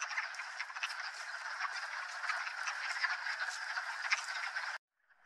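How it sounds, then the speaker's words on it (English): A dense chorus of male frogs giving quacking mating calls and croaking continuously, many calls overlapping in a steady, loud din that cuts off abruptly near the end. "Only the males make this peculiar quacking sound, and it's to attract a female."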